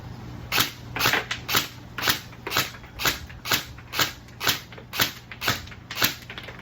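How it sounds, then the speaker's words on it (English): A Lancer Tactical Gen 3 Hellion airsoft rifle with a tracer unit fires single shots, about a dozen sharp close pops spaced roughly half a second apart in a steady rhythm over a low hum. "now for the shooting test. First we're going to do single fire."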